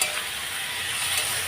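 Chilli paneer with tomato sauce sizzles steadily in a pan while it is stirred, a close, even frying hiss with no talking.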